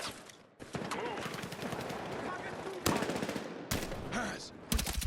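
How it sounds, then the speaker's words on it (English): Heavy gunfire in the Battlefield 6 video game campaign: rapid bursts of automatic fire and sharp shots, loud and close, with voices talking between and over the volleys. "Moving to the Souk under heavy fire."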